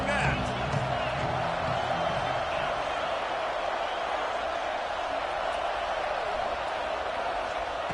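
Stadium crowd at a UCLA football game roaring and cheering in a dense, continuous wash of noise, with a commentator talking over it.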